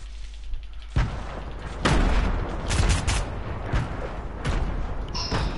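Video game gunfire and explosions, likely thrown grenades, in a loud continuous barrage of heavy bursts and booms with no pauses, close and dense throughout.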